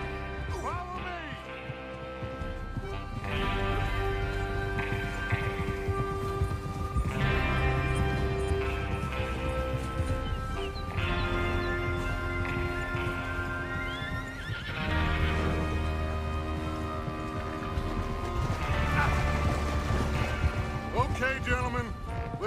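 Horses in the Red Dead Redemption video game set out to rob a train, with whinnies and hoofbeats layered over a loud, swelling orchestral score, while voices speak intermittently.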